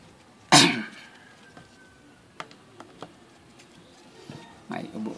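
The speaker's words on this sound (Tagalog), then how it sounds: "May ubo konti." One sharp, loud cough breaks out near the start during a grinder repair, followed by scattered faint clicks and taps and a soft stir of movement near the end.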